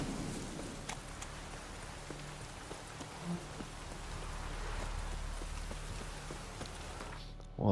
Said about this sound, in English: It's because it's raining.